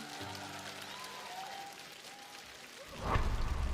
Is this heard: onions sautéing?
no